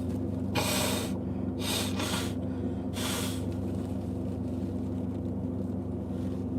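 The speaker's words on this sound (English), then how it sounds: "sorry, you saw me blowing my nose." Three forceful nose blows in quick succession, close and loud, over a steady low electrical hum.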